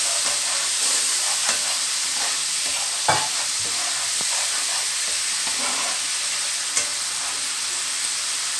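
Dry ground spices frying with a splash of water in a pan for a Begun Kasundi dish, giving a steady close sizzle and hiss with occasional scraping stirs.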